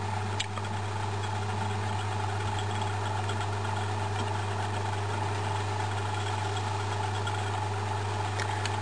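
A lathe turning a ball inside a ball hums steadily with a constant motor drone and faint vibration, unbroken and fairly close, with no speech.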